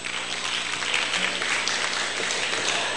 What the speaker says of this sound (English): I thought you would clap for that.